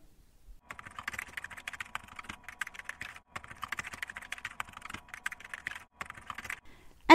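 Fingers tap out a question on a computer keyboard in a quiet room, a quick irregular run of crisp close keystrokes with brief pauses, ending in a louder thump.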